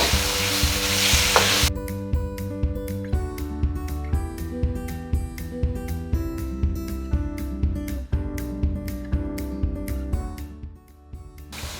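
Pork frying in a pan for Taiwanese fried rice noodles, a steady close sizzle with a rhythmic series of stirring scrapes and clicks running throughout, loud and continuous with no talking.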